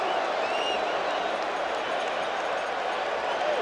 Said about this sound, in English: Naturally, the crowd hollers balk,